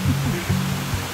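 A waterfall in the southern Dominican Republic roars steadily and loudly at close range, with a dense, continuous wash of falling water and no voices.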